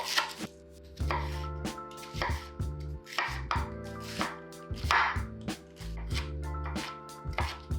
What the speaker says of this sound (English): we will finally chop some onion and some cilantro